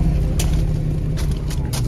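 A Porsche 911 convertible engine with its exhaust box removed idles close by with a low, throaty rumble and a slightly loud exhaust note, steady throughout the brief moment.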